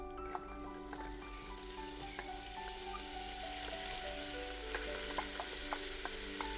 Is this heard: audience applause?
no